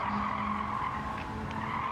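A race car in Gran Turismo 7 brakes on the Tokyo Expressway, its tires skidding with a steady, sustained squeal over the engine drone for about two seconds.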